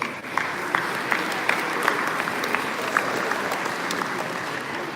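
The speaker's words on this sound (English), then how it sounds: "so please give yourselves a round of applause." Concert audience at a Warsaw Uprising 75th anniversary music event applauds itself, a fairly soft, even wash of clapping with a few sharper individual claps standing out.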